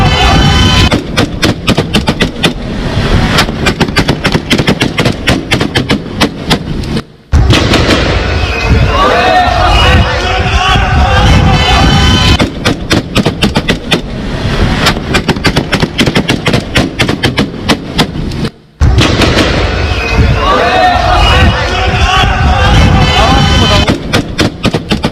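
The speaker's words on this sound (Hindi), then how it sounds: "आपको आवाज आ रही है फायरिंग की कि आमने सामने की गोलियां चल रही हैं" Street fighting in Gaza in news footage: dense, heavy gunfire with rapid bursts and booming shots, loud and continuous, cut by two brief gaps, with a reporter's voice partly mixed in.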